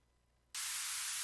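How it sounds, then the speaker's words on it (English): A white noise sample in an electronic music production session cuts in abruptly after a quiet low hum, becoming a loud, steady, bright hiss that holds evenly to the end. "That is the white noise."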